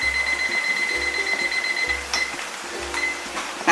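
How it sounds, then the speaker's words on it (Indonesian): Kitchen timer alarm being set while Balinese base genep spice paste simmers, giving a series of short, evenly spaced electronic beeps close by, about one per second, with faint clinks in the background. "Saya pasang alarm ya."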